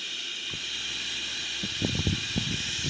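A Boeing 777-300ER's right wing engine spools up during start, a steady broad hiss and whine with low rumbling pulses growing stronger toward the end, heard alone without talk.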